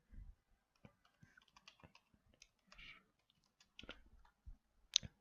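Password being typed on a computer keyboard during account activation, heard as scattered, irregular key clicks and short bursts of taps, fairly close and quiet, with no talking.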